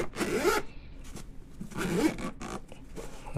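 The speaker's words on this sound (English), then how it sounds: "Unzip that." A zipper on a GoPro Hero 9 carrying case is pulled open in two quick close zips, with light rustling of the case between them.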